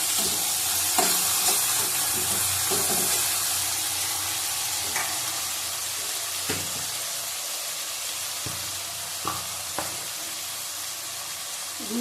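Egg and potato for biryani frying in a pan, a steady broadband sizzle with occasional scraping stir clicks, close and continuous with no talking.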